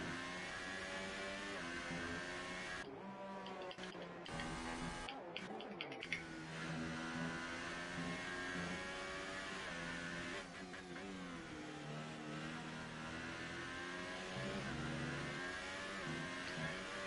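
A race car engine revs and shifts through gears on a flying lap at the German Grand Prix in an F1 game, a steady mid-pitched whine with brief gaps, heard fairly faint and alone.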